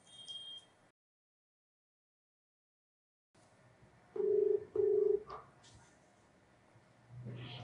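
A telephone call rings out on the line. Two short, even ringback tones sound in a row over faint background hiss, after a stretch of near silence.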